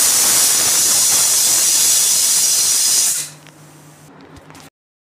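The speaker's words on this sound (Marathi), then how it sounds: "त्याला आपण 4-5 शिट्ट्या देऊया स्लो गॅसवरती।" A pressure cooker on low gas, cooking vegetable dalia, lets out a loud sustained steam whistle that hisses for about three seconds, then drops away to a faint hum before silence.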